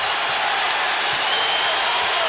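Dense, roaring crowd noise fills a basketball arena during a 1989 Bulls versus Pistons playoff game, a steady wash of cheering and clapping with no pauses.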